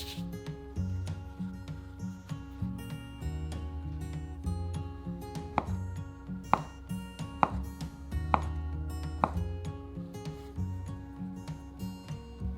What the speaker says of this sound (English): dust some flour on the top of the dough, roll it up loosely, and then slice it.